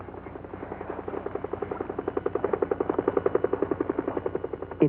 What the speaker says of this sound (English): They call for a rescue helicopter.